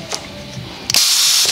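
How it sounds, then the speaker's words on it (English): Valve grinding machine for Subaru engine valves running dry, giving short mechanical clicks and then a loud, high, whirring grind that starts abruptly partway through. "I'm running it dry for demonstration purposes"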